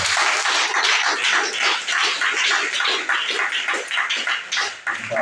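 A church congregation applauds their pastor with dense, sustained clapping that fills the space loudly and evenly, flickering slightly in intensity and continuing throughout.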